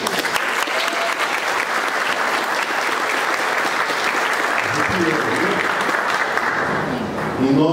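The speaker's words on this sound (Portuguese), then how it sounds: "Eu acho que a gente tem que começar com a salva de palmas para todos nós" Dense, loud applause from a church leadership training gathering fills the room continuously, a sustained wall of clapping with a few louder hand claps and murmuring voices surfacing near the end.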